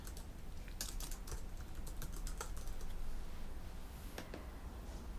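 Keys clatter on a computer keyboard in quick irregular bursts, near and fairly quiet over a steady background hum, with no voices.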